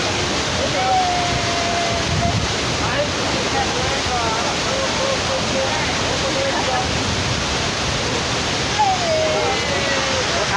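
Thomson's Falls in Nyahururu, Kenya roars as a loud, continuous broadband rush of falling water, with faint voices and a few brief whistling tones over the top.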